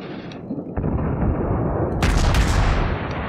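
Warship naval guns firing in World of Warships, heard as a deep boom followed by a heavier, louder salvo roar that rumbles on and slowly fades.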